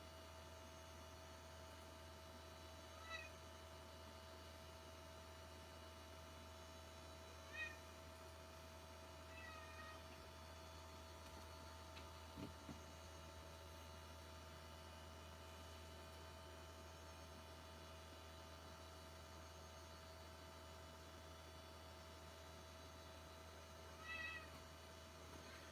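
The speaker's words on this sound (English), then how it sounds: "I don't know what's wrong with Studio Cat, but boy, he's unhappy tonight" An unhappy house cat meows intermittently in a quiet room, several separate cries spaced seconds apart and fairly faint over a steady electrical hum.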